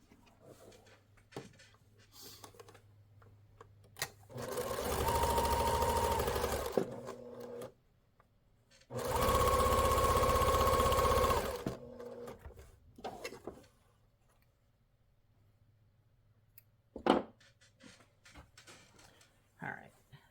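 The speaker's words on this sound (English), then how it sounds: "go ahead and stitch until I'm past this" A sewing machine stitches fabric for a fussy-cut quilt frame in two steady, loud runs of a few seconds each. Quiet handling sounds and brief pauses fall between and after the runs.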